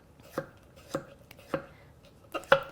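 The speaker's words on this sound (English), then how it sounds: "With the English cucumber, you can cut it any way you like." A knife chops an English cucumber into half moons on a cutting board, giving four distinct close, crisp knocks spaced roughly half a second apart, with no talking.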